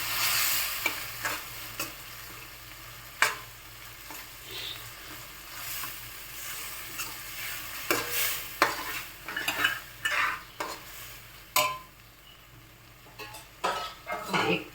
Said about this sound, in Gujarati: સારી રીતે હલાવી લઈશું આપણે.